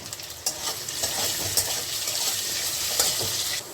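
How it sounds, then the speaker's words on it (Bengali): Small diced, salted potatoes fry in a pan with a constant close sizzle, broken by occasional stirring clicks and scrapes, with no talking. "আমার আলুটা যেরকম ভেজেছে আমার ভাজা হয়ে গেছে"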